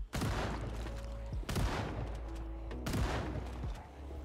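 Gunfire in the zombie survival game Project Zomboid, with three loud, sharp shots spaced about a second and a half apart over a steady low rumble.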